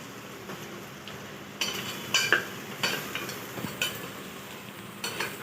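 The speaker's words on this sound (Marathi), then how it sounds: "आता चांगलं परतून घेऊ." Khichdi masala with chilli powder sautéing in a pan, a low steady sizzle broken by several sharp scraping and clinking strokes of a spoon against the metal.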